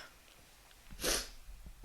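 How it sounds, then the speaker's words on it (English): One short sneeze bursts out about midway, fairly close and moderately loud, with quiet breathing and a bit of room noise around it. "I feel like I'm gonna sneeze again"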